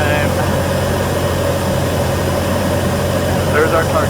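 A Cessna 172P single-engine propeller plane flying a landing pattern drones steadily and loudly, a continuous engine and propeller hum that stays even throughout.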